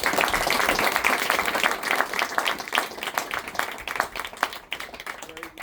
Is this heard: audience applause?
yes